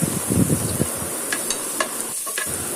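Half a cut capsicum is stirred into a hot frying pan, soft scraping and tossing sounds over a light sizzle, busier at first and then thinning to a few scattered clinks and scrapes.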